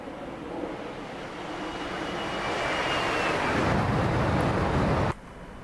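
T-45 Goshawk trainer jet in DCS World climbing away after a carrier takeoff, its engine roar steady and rising slightly in loudness, with a thin whine above, before cutting off abruptly near the end; no talking.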